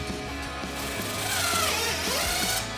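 Power drill tightening screws on a 2024-2025 Mustang GT SpeedForm three-piece chin spoiler, whirring bursts that rise and fall in pitch with ratcheting clicks, close and fairly loud, no talk.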